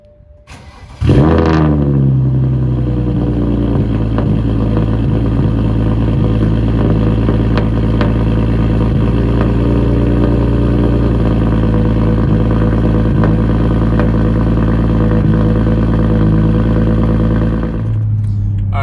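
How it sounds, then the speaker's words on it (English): A car engine with a single turbo exhaust and JB4 anti-lag cranks and fires up cold about a second in, then settles into a loud, steady idle with a deep exhaust rumble until it cuts off near the end. "I'm gonna film the cold start real quick, and then we'll get some road shots of the exhaust"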